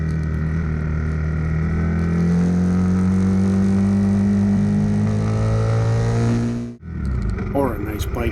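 RPS Hawk DLX 250 dual-sport motorcycle on knobby tires cruising a town road, its engine holding a steady, loud drone with rising pitch before a brief drop and cut near the end, followed by a short burst of noise.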